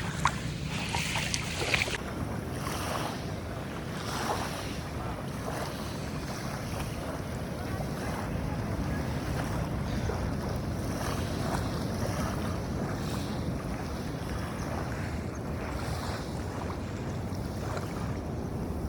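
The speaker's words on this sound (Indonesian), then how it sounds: "Ini mendengar suara ombak ya" Ocean waves at Ujung Genteng beach roll and wash continuously alongside strong wind buffeting the microphone, a steady loud surf roar with a few louder gusts early on.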